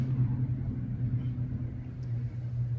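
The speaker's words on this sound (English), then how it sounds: "you guys hear that loud car going by?" A loud car drives past outside, heard as a steady low rumble with a constant hum underneath. The rumble holds without a clear rise or fall, and no one talks over it.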